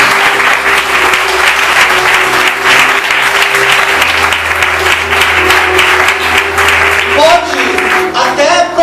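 A church congregation breaks into sustained, loud applause that fills the room for several seconds, with a voice speaking over it before the clapping gives way to speech near the end.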